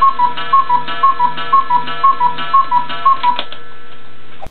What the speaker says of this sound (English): Here's a little video of a cuckoo clock in action.